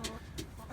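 Salmon Faverolle chickens crowd around someone's feet, giving soft, short clucks and low murmurs, faint and close in a quiet indoor space.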